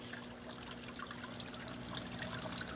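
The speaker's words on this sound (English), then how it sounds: "you can probably also notice how little bit of water flow I've got going on at the moment" A weak flow of water trickles and splashes steadily in a waterfall aquarium tank, a constant close, bright patter with no pauses.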